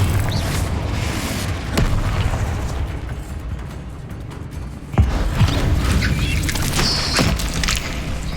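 The Confringo fire spell detonates in Hogwarts Legacy on PS5 in a mine setting, with dull booming blasts and sharp bursts rising out of a dense, continuous wash of game noise.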